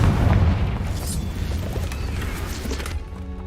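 A Confringo spell blast in Hogwarts Legacy erupts as a loud, deep boom with heavy low rumble that slowly decays over several seconds, with a faint crackling tail and a rising tonal swell near the end.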